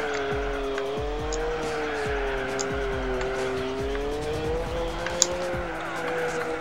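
Tires squeal in a long, wavering whine as a car drifts in Gran Turismo 4 during a 4WD race, the engine droning steadily underneath with a commentator's voice faintly present.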